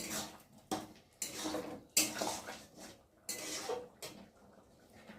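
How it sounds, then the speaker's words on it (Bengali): Potato curry (aloo dum) stirred in a cooking pot with a spoon: several separate scraping, clattering strokes against the metal, each followed by a brief pause. "একটু ভালো করে নেড়ে নেব।"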